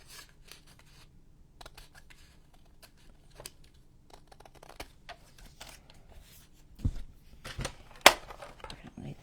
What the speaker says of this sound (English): I'm just going to cut it with the scissors.